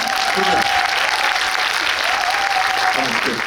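A cinema audience at a film talk event in a multiplex theater claps briefly, a dense burst of many hands with a few voices faintly mixed in.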